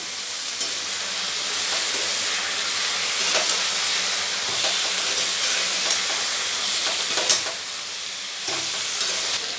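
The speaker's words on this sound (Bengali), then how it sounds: "এবার সর্ষেটা দিয়ে আমি কষাবো।" Mustard paste with garlic and green chilli frying in a pan for begun shorshe, a loud continuous sizzle and hiss with stirring scrapes throughout, close and without speech.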